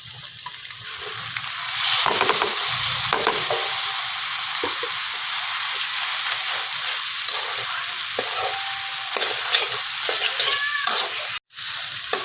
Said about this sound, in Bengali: এখন নুডলস আর আলুর সাথে কিন্তু আমি ডিমটা খুব সুন্দরভাবে মিশিয়ে নিতেছি।